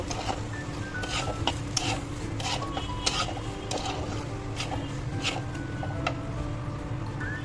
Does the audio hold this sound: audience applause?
no